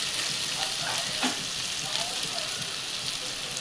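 Ginger, garlic, coriander and green chillies fry in hot oil for a Marathi spiced liver dish, giving a steady, close, dense sizzle with faint crackles throughout, no voices over it.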